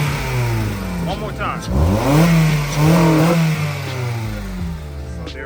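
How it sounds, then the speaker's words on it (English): An Acura RSX fitted with an Injen short ram intake revs up and down, its engine rising and falling in pitch through a few loud, nearby throttle blips, with someone speaking briefly over it. "Now we just got the intake on. Listen to the sound of this. This shit sounds so crazy. It sounds like a turbo."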